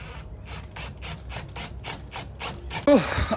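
Self-tapping 45mm screws being driven to fasten a bullbar, heard as a rapid, regular ratcheting and grinding rhythm close up, ending in a louder burst of turning.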